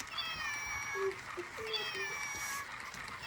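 A cat meows twice in drawn-out, wavering calls amid a children's pretend-play game at home, with children's voices talking nearby.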